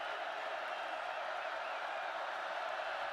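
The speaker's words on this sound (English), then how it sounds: "Crowd roaring." A college football stadium crowd roars at an Oklahoma Sooners vs Florida A&M Rattlers game in 2012, a steady, dense wash of distant cheering that holds at an even level throughout with no break.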